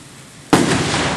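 A single loud firework burst at a ground-level show in Simsbury, Connecticut cracks in after a half-second of quiet, then leaves a sustained rumbling crackle and echo that fills the rest of the moment.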